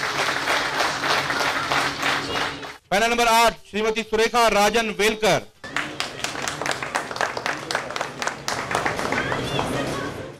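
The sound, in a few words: audience applause welcoming candidates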